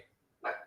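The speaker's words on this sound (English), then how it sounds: "Uh-oh. The dog's wigging out." A dog gives a single short bark, faint and somewhat distant against a quiet background.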